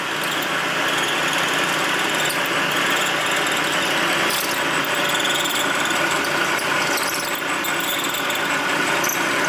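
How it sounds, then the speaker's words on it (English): A cutting tool machining a clearance cut at a 45-degree angle into a Harley-Davidson Twin Cam engine case, a steady, loud grinding and whirring with a gritty metallic rasp running continuously throughout, no talk. "Alright, so now we're going to cut at a 45-degree angle, which is where our bad spot was in the case."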